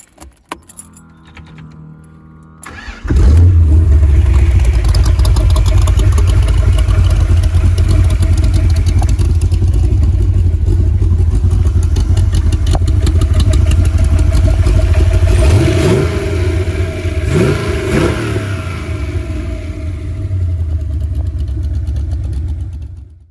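A 1993 Mk4 AC Cobra replica's engine: a few clicks and key sounds, then a sudden start into a loud, deep, steady idle that rumbles on, with a couple of revs blipping near the end.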